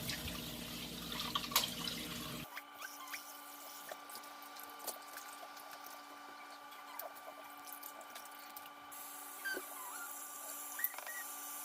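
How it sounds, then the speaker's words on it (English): Rice being washed in water, with quiet sloshing, drips and running water from a tap that carry on steadily at close range, alongside occasional small clicks and knocks. "So I'm gonna wash this 2 times."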